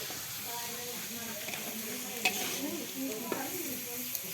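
Lentils dry-frying in a pan before cooking dal give a soft, steady sizzle with faint stirring scrapes, fairly quiet, while a voice murmurs in the background at an outdoor family picnic cookout.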